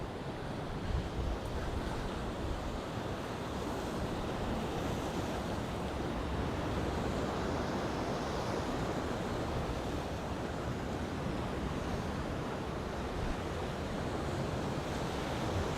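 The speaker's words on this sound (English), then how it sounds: "I do enjoy watching the waves crashing against the rocks." Sea waves break against the rocks of a rocky headland on a Mediterranean coast, a steady, dense roar of surf and wash with wind rumble, continuous and fairly loud with no voices.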